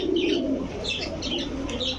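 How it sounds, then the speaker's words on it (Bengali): Pakistani crested-neck pigeons coo in a steady low murmur, with soft repeated calls and light chirps layered over a continuous background hum. "পাকিস্তানি চুইঠাল ঝাকগলা জি মাশাআল্লাহ দর্শক নর্মাদি দুইটাই ঝাকগলা কবুতরের কোয়ালিটি দেখেন"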